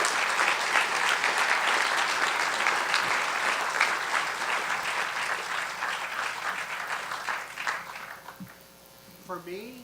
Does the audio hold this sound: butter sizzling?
no